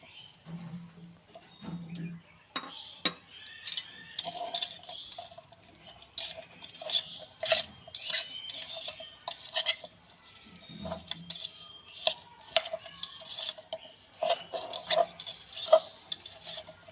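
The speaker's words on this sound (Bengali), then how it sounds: "এইভাবে নাড়িয়ে নেবেন ভালো করে। আর এতে কিছু লেগে থাকলে এভাবে চেঁচে দিয়ে দেবেন।" A spoon stirs and scrapes guava chaat around a bowl, giving close, irregular scratchy scrapes and clicks that continue steadily with no talking.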